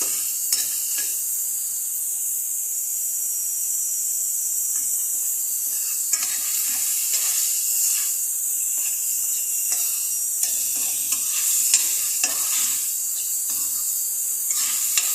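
Coconut milk poured into softened sautéed onions in a pan for squash and seafood in coconut milk, giving a steady bright hiss with light intermittent clinks and scrapes of stirring, close and continuous with no talk.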